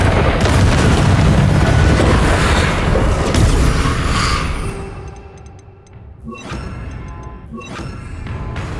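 Fire spell blast cast in the Hogwarts Legacy video game: a loud, dense roaring burst fills the first five seconds, then fades into quieter game ambience with a few sharp clicks and chimes.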